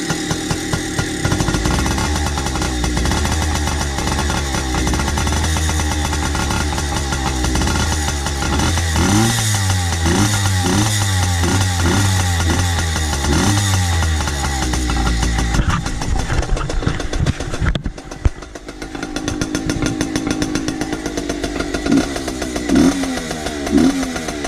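A Yamaha PW80 dirt bike engine catches and runs loud and close, a steady buzzing two-stroke drone with rough revving bursts, then settles toward a choppy idle.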